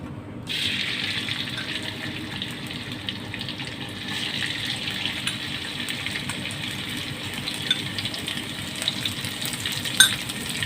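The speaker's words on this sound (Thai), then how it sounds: "ผัดพริกกับกระเทียมให้มีกลิ่นหอมก่อนนะคะ" Oil sizzles and crackles steadily in a hot pan as chili and garlic are stir-fried for a shrimp and water mimosa noodle dish, a close, even hiss lasting throughout with a few sharper pops near the end and no talking.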